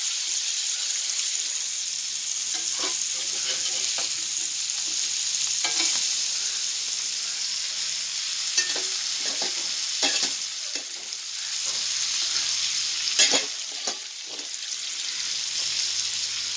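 Sardines roast on a hot tawa with a steady, dense sizzle and crackle, close and fairly loud, broken by occasional scrapes and taps of a spatula turning the fish.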